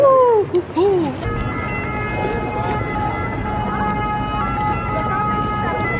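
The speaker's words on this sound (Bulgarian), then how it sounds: "Не, това не е полиция, това е линейка." An ambulance siren wails along a street in Venice, a loud, close warbling tone that holds steady, with a voice speaking briefly at the start over the street noise.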